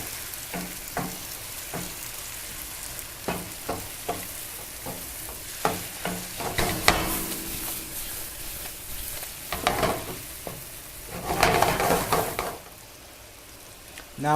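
Fresh spinach sizzling and wilting in a saucepan as it is stirred, a steady close fry hiss broken by scraping stirs and louder bursts of crackle, no talk.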